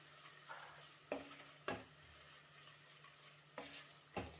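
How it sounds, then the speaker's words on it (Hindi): Grated onion frying in a pan over a low flame gives a soft, steady sizzle, broken by several sharp scrapes and knocks of a spoon stirring against the pan. "प्याज को भी अच्छे से हम भून लेंगे।"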